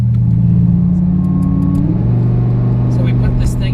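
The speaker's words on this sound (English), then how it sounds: "the noise will actually emanate through the back of the supercharger and out the intake system" Supercharged Lamborghini Huracan with supercharger intake noise, a loud deep engine drone that shifts pitch as it revs, heard from inside the car with faint speech over it.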